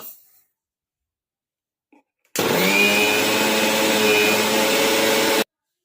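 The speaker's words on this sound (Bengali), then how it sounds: "এই সুজিটাকে আগে মিক্সারে একটা কৌটো নিয়েছি ব্লেন্ড করে নেব" A mixer grinder blends semolina into powder with a loud, steady whirring roar that starts abruptly after near silence, runs for about three seconds and then cuts off sharply.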